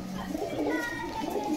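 Large caged pigeons coo in soft, low, throaty bursts at a pigeon seller's shop, close by and partly under people talking.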